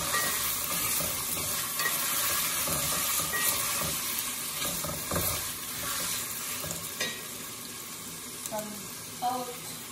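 Onion sizzles and fries in a pan while being stirred, giving a steady, close hiss with scraping and small bumps over it and brief speech in the background.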